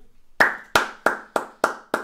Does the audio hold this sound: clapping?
yes